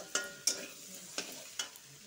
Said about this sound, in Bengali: ভালো করে ভাজবো।